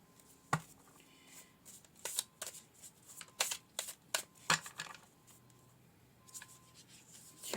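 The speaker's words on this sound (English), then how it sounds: "we're going to pull a few more cards" Tarot cards are shuffled in a series of sharp, brief riffles and slaps that come at irregular intervals, close and moderately loud, with quieter shuffling between them.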